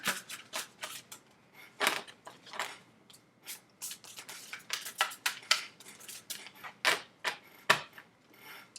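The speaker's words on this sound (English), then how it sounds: "Two more shuffles." Tarot cards are shuffled in quick riffling bursts, a rapid series of soft crisp slaps and flutters close by, with brief pauses between rounds.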